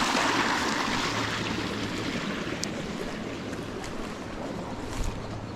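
Flowing water at a trout fishing spot in Australian bush, a steady broadband rush of stream current running continuously and fairly close, with no talk over it.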